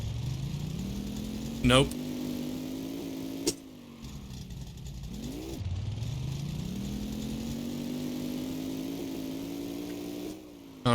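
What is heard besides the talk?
car engine revving during clutch pop burnout attempt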